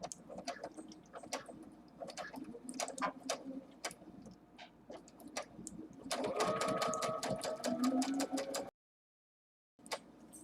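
A sewing machine straight stitches elastic onto a fabric mask, its rapid mechanical ticking in close bursts that quicken into a dense run before a sudden stop and a brief restart.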